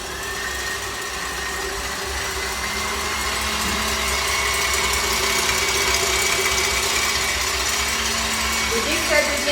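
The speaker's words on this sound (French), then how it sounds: "on commence à accélérer son robot" Stand mixer whipping egg whites for chocolate macarons, a steady loud mechanical whir with a rattling gear-like texture, gradually rising in level as the motor speeds up.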